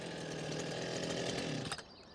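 A hand-held core drill grinds into rock, a loud, steady, high-pitched cutting whine that holds for almost two seconds and then cuts off abruptly.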